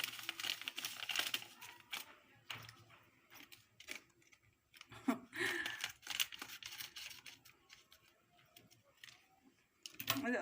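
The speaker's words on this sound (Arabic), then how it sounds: "هنجيب بقى الجردل ونفضي الكيس بتاع البودره" A plastic bag of powdered liquid-soap mix crinkles and rustles close up as it is shaken out into a bucket. The crackling comes in uneven bursts, and a voice speaks now and then.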